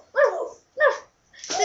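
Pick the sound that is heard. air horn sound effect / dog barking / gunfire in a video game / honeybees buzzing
dog barking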